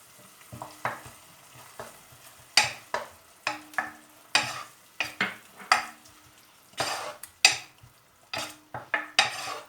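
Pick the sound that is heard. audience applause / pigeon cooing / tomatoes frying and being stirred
tomatoes frying and being stirred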